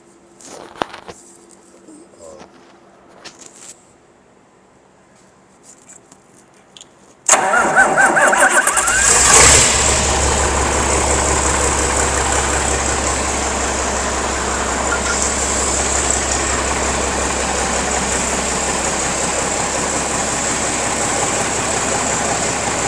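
After a few seconds of faint clicking from a jumped starter solenoid, a tractor engine cranks and fires, settling into a loud, raw, straight-pipe idle that runs steadily.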